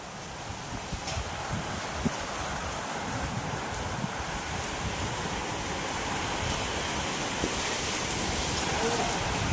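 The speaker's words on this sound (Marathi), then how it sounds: "कसल्या मॉडेलचा पाऊस म्हणावा पाहिजे हा" Heavy rain pours in a steady, dense downpour during an unseasonal Diwali-time storm, a loud, continuous close-up hiss that holds unbroken from start to finish.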